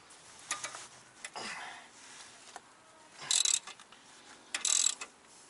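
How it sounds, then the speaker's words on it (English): Ratchet working on a strut tower bolt of a VW MK4 during an air suspension install, giving a couple of short bursts of rapid clicking amid quieter metallic handling noises. "with your ratchet set to loosen, you're going to hold this side of the strut tower bolt and this side with the wrench and try to get it off"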